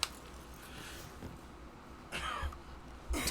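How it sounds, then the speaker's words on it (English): A couple of short, harsh coughs from one person in the video game Red Dead Redemption 2, with a fainter throat-clearing sound and a faint steady background hum. "Don't cough directly on him, Arthur, you fucking ass."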